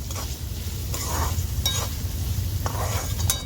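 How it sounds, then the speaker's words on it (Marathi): Chopped onion sautéing in a pan while a spatula stirs it, giving a steady close sizzle broken by intermittent scraping strokes and a few soft clinks over a low hum. "कांदा ना आता मी परतून घेते लाल होऊसर"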